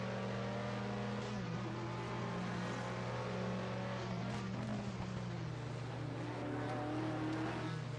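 Engine of a 1973 British Formula 3 race car, an Alpine, droning steadily with a continuous, near, constant loud note and slowly shifting harmonics as it circulates the track, no voices over it.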